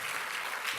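Church congregation applauding together during a worship service, a steady wash of clapping throughout with no voice over it.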